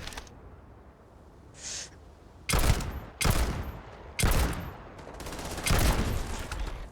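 Gunfire in the space game Starfield: four loud, separate bursts of shots spaced roughly a second apart, each a short cluster of rapid reports, following a brief faint chirp against a quiet backdrop.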